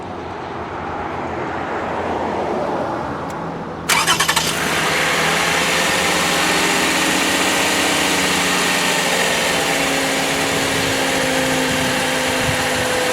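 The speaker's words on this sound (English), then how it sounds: "And now all that's left to do is start the car." A car engine cranks briefly and catches partway through, then settles into a steady, close idle that runs to the end after a jump start from an Autogen 4500 peak amp jump starter.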